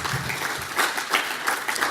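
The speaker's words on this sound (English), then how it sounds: "Ladies and gentlemen, a round of applause for our navigators." An audience applauds navigators at an address, a burst of many hands clapping at a moderate distance with a dense, slightly uneven patter and no voices.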